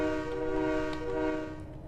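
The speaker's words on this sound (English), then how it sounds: "you honk the horn 3 times" A locomotive horn in a train simulator game sounds one sustained, steady multi-tone blast, loud and close, fading slightly at the end.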